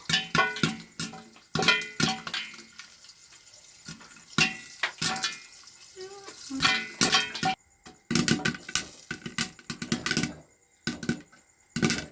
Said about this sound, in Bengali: এখন পপকর্ন ভাজা হবে